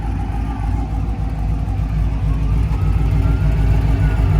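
A supercharged car engine revving with a faint blower whine on top, heard through a quiet aftermarket muffler; a steady, loud low rumble that holds even throughout.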